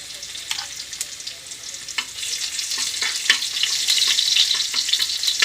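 Chopped garlic sautéing in a hot oiled pan gives a close, steady crackling sizzle that slowly builds in loudness, broken by a handful of sharp scraping clicks from a utensil stirring against the pan, with no voices.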